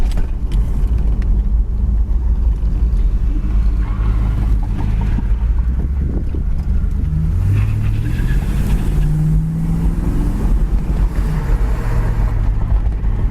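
A 1979 Pontiac Trans Am Special Edition on the move, its engine a steady low rumble throughout, with road noise and a rising, shifting tone midway as it accelerates, loud and close with no talking.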